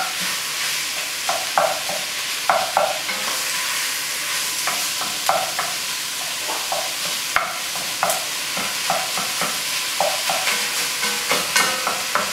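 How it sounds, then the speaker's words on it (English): Ground meat browning in a hot pan with garlic and onion, a steady close sizzle broken by repeated scraping stirs and pushes of a utensil across the pan. "So it's browning the meat in with that garlic and that onion."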